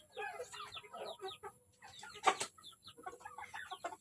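A purebred Gohan rooster clucks close by, a series of short, choppy clucks in bursts with one sharper, louder squawk midway.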